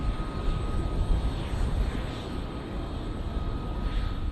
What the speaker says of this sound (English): few helicopters have shaped the battlefield like the CH-47 Chinooks